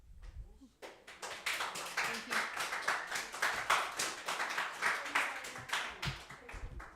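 An audience at a city council work session applauds, a dense run of many hands clapping that starts abruptly and keeps a steady rhythmic pulse throughout, moderately close, then thins out at the end.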